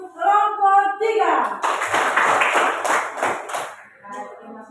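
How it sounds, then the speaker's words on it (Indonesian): A classroom of students claps for a group after its presentation, a burst of brisk hand clapping lasting about two seconds, framed by a voice speaking before and after. "Berikan tepuk tangan untuk kelompok 3"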